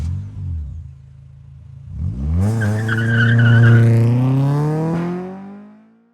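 A 1992 Fiat Cinquecento 900 on a test drive, its small engine pulling up through the gears: a low idle-like drone, then a rising rev climbing steadily in pitch and loudness before easing off, heard close and alone.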